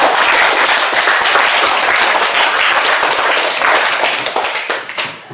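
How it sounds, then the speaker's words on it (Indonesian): Loud, dense applause from a classroom audience for group 4 during an Indonesian teacher-training lesson on short-story texts, clapping steadily for about five seconds before thinning out and fading at the end. "tepuk tangan untuk kelompok 4"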